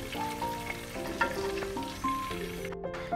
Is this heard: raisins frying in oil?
yes